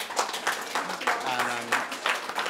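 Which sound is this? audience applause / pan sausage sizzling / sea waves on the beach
audience applause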